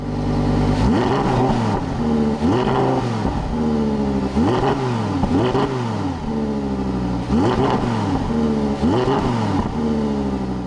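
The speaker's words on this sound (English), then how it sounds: "Press that and it turns on the sport exhaust, and it sounds pretty good." A 2022 Audi R8 with V10 engine and sport exhaust revs repeatedly, about seven loud rising-and-falling blips in a regular rhythm, close and unaccompanied.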